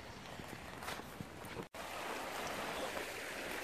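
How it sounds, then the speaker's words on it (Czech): A small brook flows by under a bridge in winter thaw, with snowmelt swelling it; steady broadband water rush, close and continuous, with a brief dropout partway through and no talk. "Jsem u potůčku."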